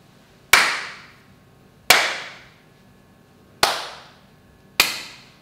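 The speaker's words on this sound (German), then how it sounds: "wenn du dreimal klatscht, klatsche ich dreimal." Four sharp hand claps, loud and close, spaced about a second apart in an uneven rhythm, each ringing briefly in the room before the next, with no talking between them.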